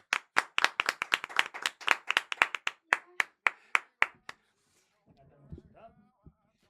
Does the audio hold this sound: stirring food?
no